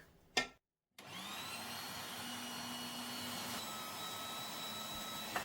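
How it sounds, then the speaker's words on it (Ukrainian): An electric meat grinder mincing garlic and pepper whirs steadily and loudly after a brief start-up click, its motor hum constant for several seconds. "І швидесенько мелимо на м'ясорубці часник та перчик."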